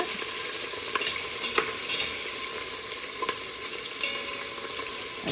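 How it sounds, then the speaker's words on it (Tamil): Washed chicken pieces sautéing in hot oil in a pan for a chicken curry: a constant close sizzle, punctuated by sharp scrapes and knocks of a spoon stirring at irregular intervals. "ஸோ நல்லா வந்து வதக்கி விட்டுக்கலாங்க"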